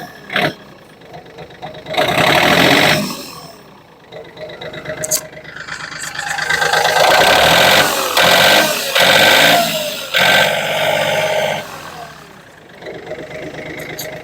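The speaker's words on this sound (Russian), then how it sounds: "двигатель работает ровненько и достаточно четко" Yanmar F215 tractor's diesel engine running, a steady mid-range idle with rising and falling revs, close and fairly loud, with someone talking over it at times.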